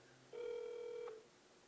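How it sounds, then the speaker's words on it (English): A single sustained electronic ringback tone from a telephone call placed at 3 AM, one steady ring lasting under a second that stops abruptly, with a quiet room around it. "It's ringing."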